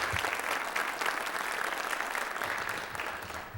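Audience applause fills a theater at a township address, dense steady clapping from a crowd that holds throughout and eases slightly toward the end.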